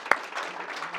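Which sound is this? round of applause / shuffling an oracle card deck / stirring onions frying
round of applause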